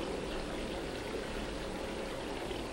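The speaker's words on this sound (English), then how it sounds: "That water ambience" Steady rushing water ambience from the video game LIMBO, a dense continuous stream-like wash with no breaks, moderately loud and heard alone without speech.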